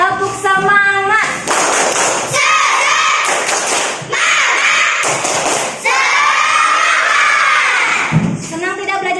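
A classroom of schoolchildren performs the tepuk semangat clapping cheer, loud rhythmic claps alternating with shouted chanted calls in quick bursts, close and energetic.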